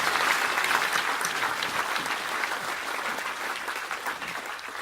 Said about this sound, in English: So a clap in advance for him now, because he'll be working with me.